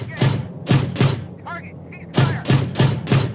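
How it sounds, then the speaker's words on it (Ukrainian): Rapid cannon fire from an M2 Bradley in the PC tank game Gunner, HEAT, PC: seven loud, punchy shots in two quick groups, each with a deep thump, separated by a brief metallic clatter. "зверніть увагу, як виконані ці всі постріли"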